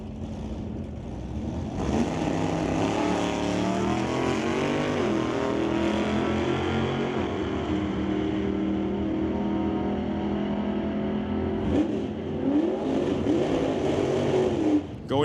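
A pickup truck and a Chevrolet Bel Air at an NHRA drag racing event, engines roaring loudly and continuously as they race, with revving swells near the start and end.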